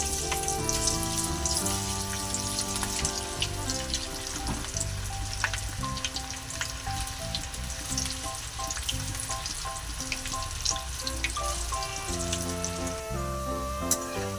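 Corn flour pakoda batter crackles and sizzles steadily as it fries in hot oil, a continuous bubbling hiss with scattered pops, heard close up under soft background music.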